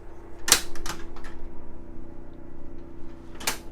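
A large pots and pans drawer in a 2017 Prime Time Fury 3012X toy hauler travel trailer kitchen slides with a sharp rattling clack, a couple of quieter knocks, then another clack as it shuts, over a steady low hum.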